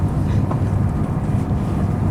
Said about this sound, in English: The train does actually stop here.